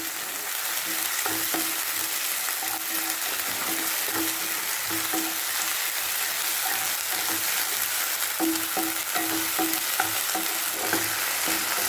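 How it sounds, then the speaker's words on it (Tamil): Onions with ginger garlic paste sauté in a pan for chicken liver masala, a continuous close sizzle broken by repeated stirring scrapes and taps at an irregular rhythm, with no voices. "இஞ்சி பூண்டு பேஸ்ட்டையும் வெங்காயத்து கூட நல்லா வதக்கணும்"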